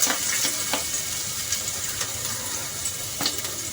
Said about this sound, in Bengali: এখানে আমি 2 টেবিল চামচ হোয়াইট অয়েল দিয়েছি, সেটি গরম হয়ে গেছে। তার মধ্যে দিচ্ছি সামান্য পরিমাণে রসুন কুচি